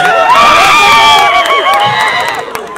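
A large crowd at a police sports competition cheers and shouts loudly, with children's voices and some clapping mixed into a continuous, close roar.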